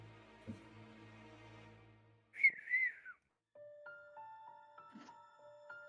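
A person whistles a short rising-and-falling note, then a clearer sustained melodic whistle with several steady tones, fairly faint and heard alone after a low hum.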